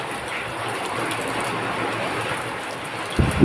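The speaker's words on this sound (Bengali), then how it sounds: "বৃষ্টি হচ্ছে দেখো তো" Steady rain falls as a dense, continuous hiss that stays even throughout, with a brief low thump near the end.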